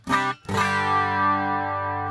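A sustained low-gain electric guitar chord through a Kemper Profiler Player MKII with a sweeping flanger effect, struck twice in quick succession then left ringing alone.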